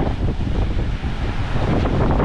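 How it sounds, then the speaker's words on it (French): Ocean waves crash against rocks on the ocean side of Compass Cay, a rough, surging wash mixed with heavy wind buffeting the microphone, loud and close with no talking. "quand les vagues viennent se fracasser sur les rochers ici"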